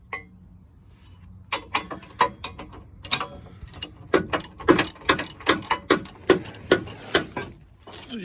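A wrench ratchets to tighten a bolt on a front-mount Draw-Tite hitch on a 2011-2016 Ford Super Duty, giving a quick, close series of sharp metallic clicks that builds after a quiet start.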